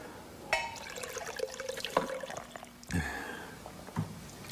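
Water poured into a glass in a quiet room, a few short splashing bursts with small clinks in between, close and moderately quiet, with no talking.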